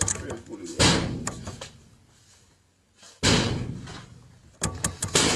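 A door is pulled open and slammed shut, with loud thudding bursts near the start and again around the middle, then a few sharper knocks at the end, over a quieter hiss between.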